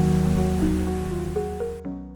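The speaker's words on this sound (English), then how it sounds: "The characteristic of this waterfall is that you can pass under it" Steady rushing roar of a waterfall in Iceland that can be walked behind, a dense continuous wash of falling water heard close, with a faint tonal hum layered on top before the sound cuts off near the end.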